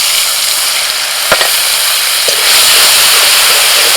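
Spice paste drops into hot oil already tempered with dried red chillies and black cumin seeds in a home kitchen, giving a steady bright sizzle with a couple of sharp spits as it lands.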